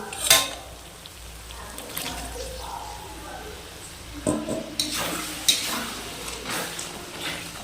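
Soaked sidol, a traditional North Bengal dish, is stirred and sautéed in a pan, with soft intermittent scraping, faint sizzling and occasional clinks of a utensil against the pan, fairly quiet overall.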